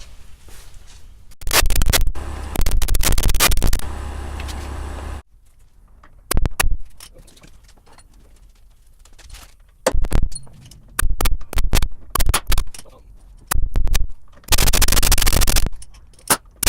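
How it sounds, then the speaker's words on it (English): Chisel work on a 1976 Ford F150 pickup during teardown: bursts of loud metallic scraping and hammering strikes come in irregular clusters with quieter gaps between, close up and with no talking. "Let's try and chisel it off."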